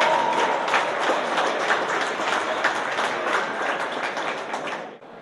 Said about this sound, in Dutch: Dames en heren, groot applaus weer